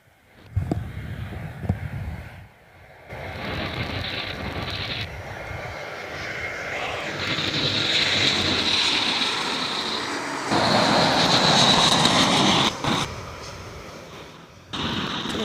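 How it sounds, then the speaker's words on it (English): Jetstar Airbus A321 or A320 jet landing at Gold Coast Airport, with an engine roar that builds and swells, steady and fairly loud, mixed with wind buffeting on the microphone. "let's enjoy this Jetstar A321 or A320, I think it is. Landing now."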